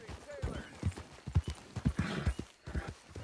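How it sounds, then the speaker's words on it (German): In Red Dead Redemption 2, a horse follows its rider, with clear rhythmic clip-clop of hooves on the ground, close and steady, along with faint breaths. "Und unser Pferd folgt wieder."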